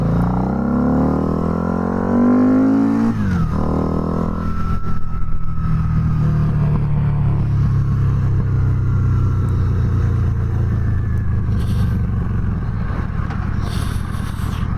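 A Harley-Davidson V-Rod Night Rod Special motorcycle engine revs up, drops as it shifts, then pulls away steadily, loud and close throughout.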